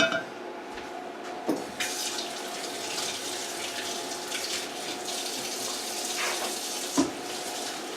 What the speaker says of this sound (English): Give me a second as I wash my hands.